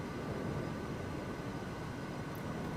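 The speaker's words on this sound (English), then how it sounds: "Oh, I hear a jet on top somewhere" A jet passing overhead in a Kodiak 100 flight simulator game gives a faint, steady, distant roar that holds evenly for the whole moment.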